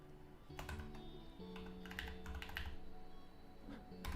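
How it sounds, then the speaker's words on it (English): Fingers type on a computer keyboard while working in a terminal on an Arch Linux setup, producing quiet, rapid, irregular key clicks over a faint background hum. "Typing for my riced up arch"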